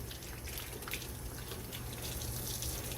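Tap water runs steadily into a sink while potatoes are washed, a soft continuous gush at low level with no talking.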